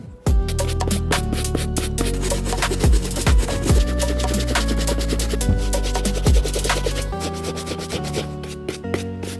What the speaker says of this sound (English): I'm gonna go over the entire upper until I get the majority of this stuff off.